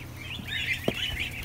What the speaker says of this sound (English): we got another goose here